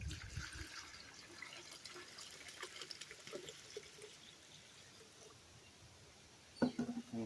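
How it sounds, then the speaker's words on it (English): Hydrogen peroxide poured from a gallon jug into an acid mixture for recovering gold from SD card scrap, a soft steady trickle and splash, faint and close, ending in a brief louder splash. "So I'm going to pour the rest of this in here."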